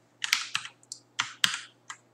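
A computer keyboard is typed on in short, uneven bursts of crisp keystrokes, close and clear against a quiet background.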